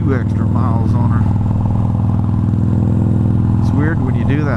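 Harley-Davidson Iron 883 motorcycle engine and right-side exhaust rumbling steadily while riding, a loud, close, throbbing drone under a rider's continuous talking.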